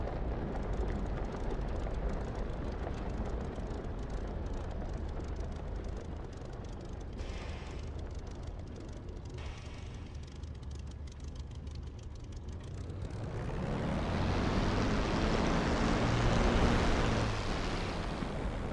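An airplane in a flight simulator game rolls down the runway after landing, a steady broad engine and rolling rumble that swells louder toward the end, with no talk.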